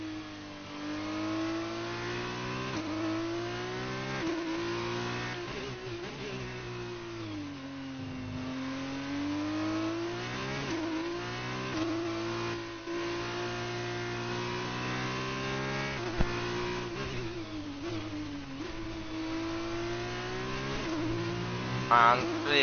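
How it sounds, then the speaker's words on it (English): A Formula 2 race car engine revs through a video game lap of the Brazilian GP, its droning pitch rising and falling steadily with gear changes and cornering for the whole stretch. "Haven't driven one of these Formula 2 cars for such a long time actually."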